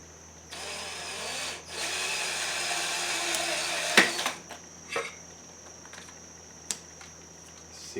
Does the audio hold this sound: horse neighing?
no